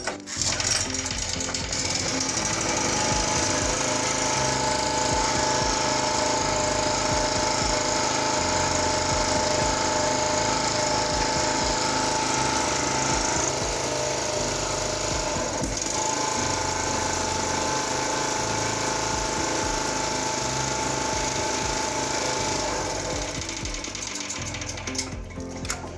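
A 4-stroke petrol generator with a faulty voltage regulator runs after a kickstart, its engine a loud, steady mechanical drone with a rapid rattling beat that holds for the full length, with no voices.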